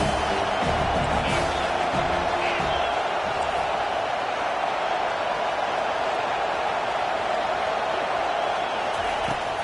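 A stadium crowd roars in the NCAA 25 college football video game, a steady loud wash of cheering that holds for about ten seconds.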